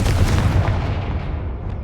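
A Confringo spell explosion in the Hogwarts Legacy video game lands as a loud, dense booming blast that rumbles and fades over about two seconds.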